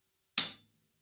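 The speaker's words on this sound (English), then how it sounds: "We have a hi-hat, which sounds like this." One short, crisp hi-hat strike on a drum kit, a quick bright chick that dies away within a fraction of a second, heard alone.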